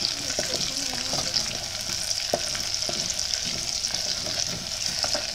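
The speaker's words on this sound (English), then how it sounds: "So you make sure you fry the oil and the onion with the momoni together." Onion fries in oil with momoni, a fermented salted fish, for Ghanaian yam pottage, producing a continuous bubbling sizzle with small scattered pops and stirring clicks throughout.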